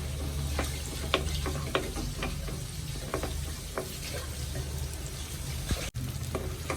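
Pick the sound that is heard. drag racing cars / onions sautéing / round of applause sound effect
onions sautéing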